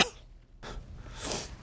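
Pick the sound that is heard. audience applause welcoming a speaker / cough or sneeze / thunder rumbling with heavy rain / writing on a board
cough or sneeze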